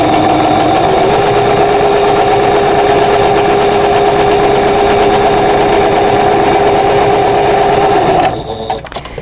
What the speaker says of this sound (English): sew a 1/4 inch away on both sides of this drawn line here